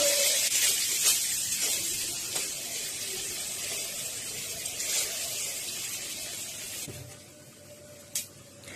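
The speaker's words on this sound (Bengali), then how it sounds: "এবার পনিরগুলো হালকা করে ভেজে নেব" Paneer pieces frying lightly in oil and butter, a soft continuous hiss and sizzle close by that thins out toward the end, broken by a single sharp knock; no one speaks.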